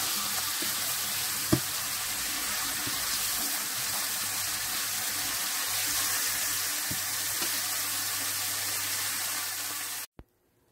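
Pork sizzles steadily on a hot pan, cooked without charcoal, a constant crackling hiss with a few faint clinks, ending abruptly.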